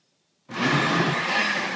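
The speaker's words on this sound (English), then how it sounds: "Turn the blender back on." A kitchen blender running at steady speed as it purées salsa made with lime and canned Rotel tomatoes, starting abruptly and holding a loud, continuous whirring roar to the end.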